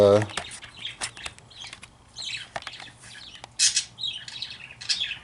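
A small bird gives sharp, scattered squawks and chirps near by, with clicks and brief flutters in between.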